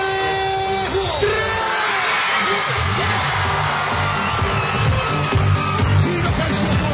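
A live open-air concert crowd at a town festival in Acerra yells and whoops loudly all together, a sustained roar of many voices close by.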